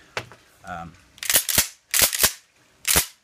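A Mossberg 500 pump shotgun is cycled with a dummy round during an action check, giving a quick series of sharp metallic clacks and slides, close and loud, with a short voiced sound between them.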